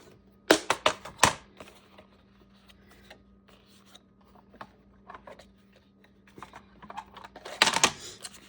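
Paper is cut for a journal flipout, with sharp clustered snips and crisp rustling near the start and end and quieter scattered handling noises in between, set against a faint steady hum.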